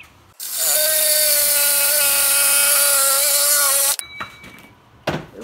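A power saw cuts through metal on a DIY sliding barn door build with a loud, steady whine for about three and a half seconds, then winds down, followed by a few faint clicks and handling noises.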